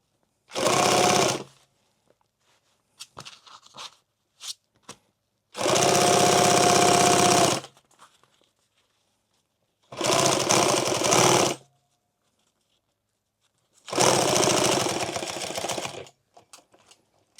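Sewing machine stitches a tool bag in four loud, even bursts of rapid mechanical clatter, each one to two seconds long, separated by quiet gaps with small handling clicks and bumps.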